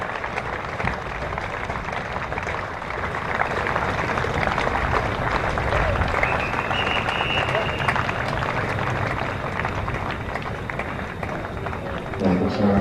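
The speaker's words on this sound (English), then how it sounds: "I'll let you hear the applause for Harris" A cricket crowd at a County Championship match between Leicestershire and Gloucestershire applauds bowler Harris taking a leg-before-wicket dismissal, steady scattered clapping sustained throughout beneath a commentator talking over it.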